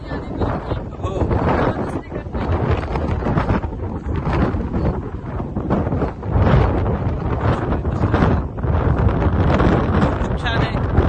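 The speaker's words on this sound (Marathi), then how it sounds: "हे जे समुद्री वारं आहे हे उभं राहणं सुद्धा असह्य करतोय" Strong sea wind buffets a microphone on the open deck of a cruise ship off Northern Ireland, producing loud, continuous roaring gusts that swell and dip with no clear breaks.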